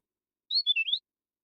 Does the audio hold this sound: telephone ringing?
no